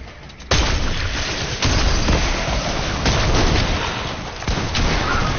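Loud video game gunfire, several sharp shots cracking at intervals over a dense, continuous rumble of battle noise.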